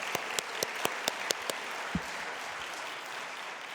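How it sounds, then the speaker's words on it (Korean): Sparse applause at a church officers' retreat as a pastor is welcomed to the front, a few sharp distinct claps at first that thin out into a soft, quiet patter. "이제 우리 전 목사님 나오실 때 뜨거운 박수로 환영하겠습니다."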